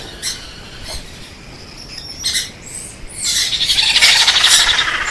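Young parrots squawking and squealing up close, a few short scattered calls at first that swell into a dense, continuous chorus of harsh high cries near the end.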